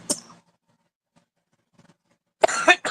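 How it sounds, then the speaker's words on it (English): A single person coughing indoors: one short cough at the start, near silence, then a burst of two or three close, loud coughs at the end. "Now I'm going to start coughing now that I'm talking."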